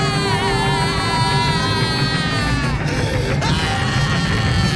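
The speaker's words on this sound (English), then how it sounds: "It's the same soundbite, just repeating the scream." A video game druid's scream soundbite repeats in a sustained, loud, tonal wailing loop with shifting pitch and no break across the whole stretch.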